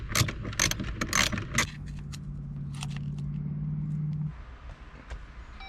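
A ring terminal is tightened onto a bolt while wiring USB ports into a Jeep Wrangler JL glove box. Close clicking and ratcheting come first, then a steady low mechanical hum, then a few faint taps.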